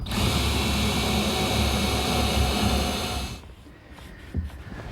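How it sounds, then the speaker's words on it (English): A power drill whirs steadily for a few seconds drilling a screw hole in wood for wooden knobs on a pine bar unit, then stops, leaving a quieter room with a few faint knocks and handling sounds. "drill a hole for the screw for our wooden knobs"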